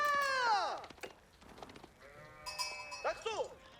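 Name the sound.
sheep bleating in the video game Age of Empires 4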